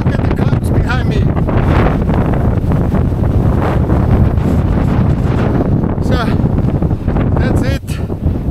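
Strong wind buffets the microphone on a mountain summit in Batangas, Philippines, a loud continuous rumbling roar for the whole stretch with gusty swells and no pause.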